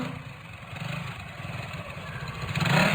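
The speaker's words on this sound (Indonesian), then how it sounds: "Kunyalakan motor metiku" Automatic motor scooter engine started at night, settling into a low putter that rises toward the end, close and moderately loud, no talk over it.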